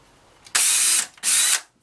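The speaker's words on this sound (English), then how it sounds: "Drill a couple of pilot holes, like so." Two short bursts of a high-pitched power drill with a small 1/16-inch bit whirring while drilling pilot holes, each about half a second, close and loud with a brief pause between.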